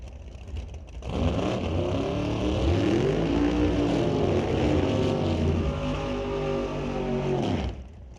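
Drag racing cars at a West Coast outlaw event, including a 1953 Chevy Corvette with a 660 cubic inch Dart motor, roar loudly with rising and falling revs for several seconds before fading out.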